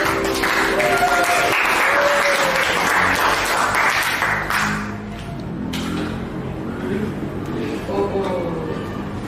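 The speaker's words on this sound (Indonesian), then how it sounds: "Baik, tepuk tangan sekali." Applause from a classroom of students during a lesson on computer operating systems, a dense burst of clapping for about five seconds that thins out, with voices and chatter mixed in.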